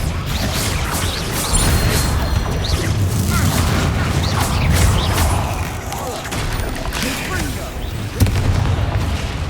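In the video game Hogwarts Legacy, a Bombarda spell sets off explosions. Heavy, rumbling booms and crashes pile up in a loud, continuous barrage of combat noise.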